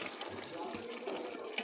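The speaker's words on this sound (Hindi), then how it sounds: "अब इसमें हम डालेंगे पानी।" About two glasses of water are poured into a pot of arvi (taro root) chicken curry after the masala is fried, producing a soft, continuous splashing rush at moderate level.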